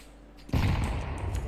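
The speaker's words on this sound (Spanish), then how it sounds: "Te pegué tres tiros." Video game gunfire: after a brief quiet lead-in, a sudden loud burst of shots erupts and rolls on as a dense, sustained barrage to the end.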